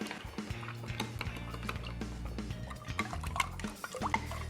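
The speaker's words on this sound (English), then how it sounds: "We'll put our salt into one and stir it around till it dissolves." Light clinking and scraping of a spoon stirring salt into a cup of water until it dissolves, steady and close, with small tapping sounds throughout.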